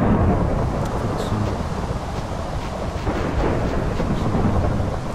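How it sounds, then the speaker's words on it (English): Thunder from lightning in a Minecraft-style survival game, a steady broadband rumble that rolls on for the whole stretch with rain-like hiss, fairly loud and continuous with no talking. "Lightning's just going to strike that there."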